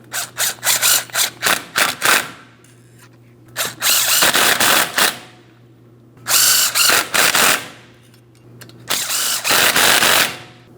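Wheel bolts on a 2015-2025 Ford Transit 250 front wheel are run down in a crisscross star pattern with a power tool, giving repeated short, loud mechanical bursts in four clusters separated by pauses.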